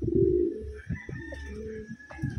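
A Taiwan pigeon coos close by in a low, throaty murmur, with soft rustling and handling noise around it and no talk.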